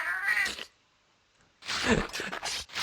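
A Felyne cat cook from the video game Monster Hunter Freedom Unite gives short meows and chirpy cat calls in two bursts separated by a brief silence, close and clear.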